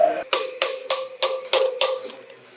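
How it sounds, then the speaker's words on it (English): Hammer and punch driving a wheel bearing into place on an overland vehicle, six sharp metallic strikes at a steady pace, loud and close with ringing decay after each blow. "I managed to borrow a hammer and a punch off on the guys here"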